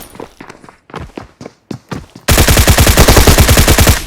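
Gunfire in PUBG Mobile: a few sharp single shots and footsteps, then a loud, rapid automatic burst of evenly spaced rounds that runs on without pause.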